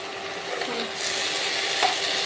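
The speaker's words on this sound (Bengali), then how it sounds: "ভাত আর আলু সেদ্ধ করে ভাজা হচ্ছে, ইন্ডাকশান ওভেনেই মা করছে।" Boiled rice and potatoes fry on an induction cooktop in a Bengali home kitchen, giving a close, steady hiss with light stirring scrapes that brighten partway through, and no speech.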